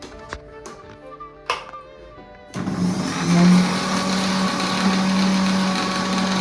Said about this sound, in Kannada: ಇಷ್ಟನ್ನು ಫಸ್ಟಿಗೆ ನಾನು ಮಿಕ್ಸಿ ಜಾರಲ್ಲಿ ಹಾಕಿ ನೈಸ್ ಮಾಡ್ತೇನೆ